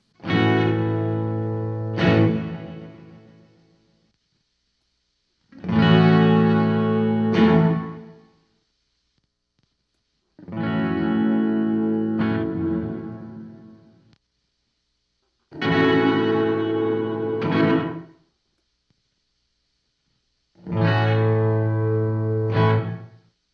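Guitar A chord strummed five times through an Aural Dream Listen Reverb pedal, each chord ringing out and decaying over a few seconds with washy reverb, separated by short silences, with no talk.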